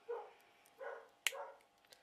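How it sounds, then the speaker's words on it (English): A few dogs bark, agitated by builders working nearby in a house. Three separate fairly faint barks sound about 0.7 seconds apart with quiet gaps between them, and there is no speech. "the dogs are going balmy all the time"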